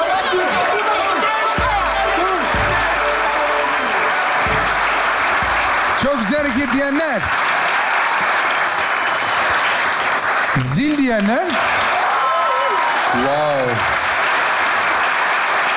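Studio audience applause fills a Turkish comedy sketch show, a steady wash of clapping that runs the whole way, with people talking over it and an excited exclamation near the end.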